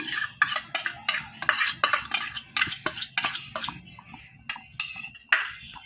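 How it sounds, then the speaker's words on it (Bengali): Palm fruit pulp being stirred into milk in a pan for patishapta: a run of close, crisp spoon scrapes and clinks against the pan in a regular rhythm, slowing and thinning out toward the end, without speech. "দিয়ে একটু নেড়ে নিচ্ছি"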